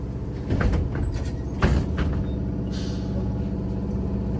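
Doors on a BKM-321 trolleybus in Minsk slide shut with a pneumatic hiss and a couple of dull thuds, heard from inside the cabin over a steady low drone of the vehicle.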